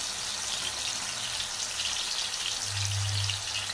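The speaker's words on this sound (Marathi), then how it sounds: "डायरेक्ट टाकणार लोखंडी तव्यावरती।" Fish sizzling in hot oil on an iron tawa, a steady broadband crackle and hiss that holds throughout and swells slightly near the end, with no talking.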